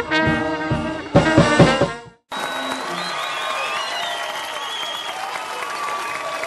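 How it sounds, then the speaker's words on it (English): An audience at the Edsel Ford High School graduation ceremony applauds the graduates: sustained crowd clapping, loud and even, breaking in after a short burst of music and carrying on steadily to the end. "How about another round of applause for our graduates?"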